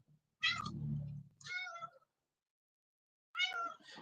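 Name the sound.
cat meowing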